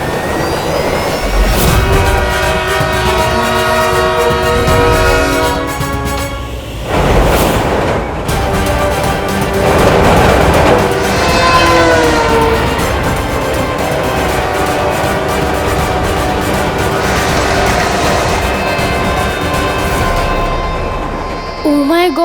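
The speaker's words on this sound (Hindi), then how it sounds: "कहीं ट्रेन ने बालवीर को कुचल दिया तो?" A train roars past with a loud, sustained horn blaring over the rumble, continuous and close for the whole stretch, with a dip near the middle.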